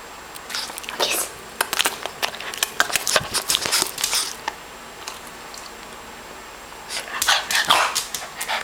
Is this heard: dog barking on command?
yes